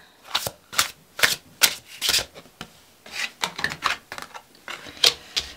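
Tarot cards riffled and slid in quick papery bursts, around a dozen short crisp rustles in an uneven rhythm, close and moderately loud with no voices.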